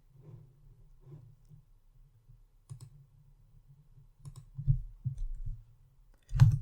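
Keystrokes on a computer keyboard while text is entered in Power BI software, sounding as scattered soft clicks and short taps, close and quiet, with a louder cluster near the end.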